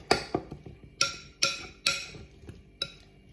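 A spoon clinks and knocks against a bowl of salad while stirring, in several sharp, irregular strikes, close by and with no voices.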